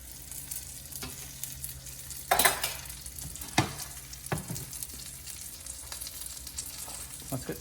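A tangy sauce for macadamia-crusted hog snapper sizzles steadily in a frying pan, a close, continuous hiss broken by a few louder spits and scraping stirs.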